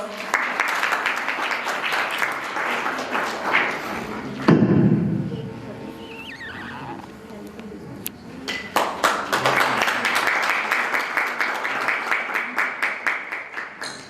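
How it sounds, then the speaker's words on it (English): School audience at an inter-school declamation event gives sustained, crowded applause for students' parents; the clapping drops away midway while someone speaks, then swells back up, dense and loud. "welcome them and give them a big round of applause"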